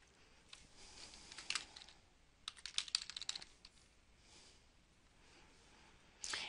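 Keys on a computer keyboard being typed while composing an email, scattered clusters of soft clicks separated by pauses, close and quiet, with no voice.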